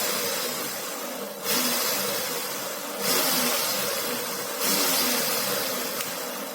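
A small DC motor fitted with a drill chuck runs on a 24-volt switching power supply, whining steadily with a hissing buzz and stepping up in pitch and loudness three times as it is pushed, no talk over it.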